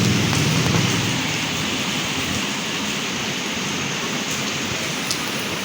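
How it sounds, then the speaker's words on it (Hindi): Steady rain pouring down in Lahore, a dense hiss of drops hitting surfaces nearby, loud and continuous without any voices. "लो जी बारिश शुरू हो गई है।"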